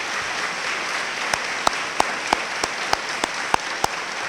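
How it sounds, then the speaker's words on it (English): An audience at a college convocation gives a sustained round of applause, a dense wash of many hands clapping in a large hall, with a few sharper individual claps standing out nearby. "please stand for a round of applause for that outstanding accreditation"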